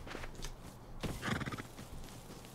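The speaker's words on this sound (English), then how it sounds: "And I hear a horse." A horse in the survival video game Rust gives a faint whinny and snort, with soft hoof clip-clops close by, all heard quietly with no talk.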